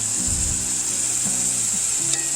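Chopped onions hit a hot pan and sizzle steadily in a hamburger and potato casserole, with a constant bright hiss and a few low scraping stirs.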